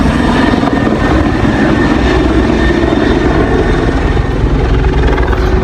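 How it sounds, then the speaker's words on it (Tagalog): Helicopter rotor and engine roar, loud and close, a steady dense whir with rhythmic blade chop throughout, no talk over it. "Ito yung isang helicopter natin mga par, oh."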